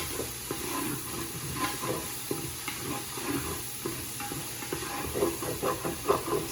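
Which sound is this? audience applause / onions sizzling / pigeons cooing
onions sizzling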